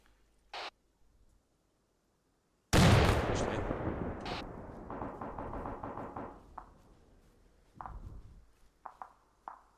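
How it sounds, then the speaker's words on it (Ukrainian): A thrown grenade explodes in the Arma 3 video game, a single sharp blast that rolls off into a long fading rumble and debris crackle, preceded and followed by faint small clicks. "Кидаю гранату."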